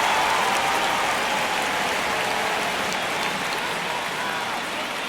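Steady crowd murmur fills a virtual baseball stadium in MLB The Show 25 during a tight one-run ninth inning, Tampa Bay at the LA Dodgers; a broad, continuous wash of noise holds at an even level throughout.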